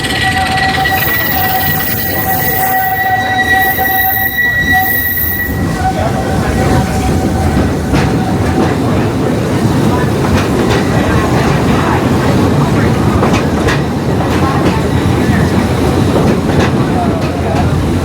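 The Walt Disney World Railroad train at Magic Kingdom, Orlando, rolls along the tracks with a loud, close rumble and rhythmic clatter. High squeals and tones ring out early, then a heavier running roar continues throughout.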